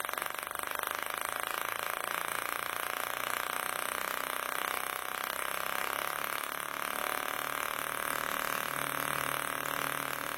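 Honda Fit engine running steadily at about 2,500 rpm with a fault in an ignition coil leaking spark, a continuous close mechanical hum and whir holding an even pitch throughout.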